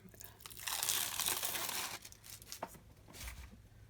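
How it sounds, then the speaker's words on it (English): An adhesive sheet from a Xyron crafting project is peeled up from paper in a close, crackling crinkle that swells and then fades, followed by a few scattered softer rustles. "Peel it up."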